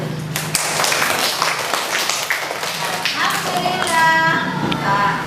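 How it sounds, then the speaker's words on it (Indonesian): Children clap their hands at a teacher's prompt during a classroom prayer lesson. Scattered uneven claps and taps mix with kids' voices and chatter throughout. "coba tepuk tangan dulu"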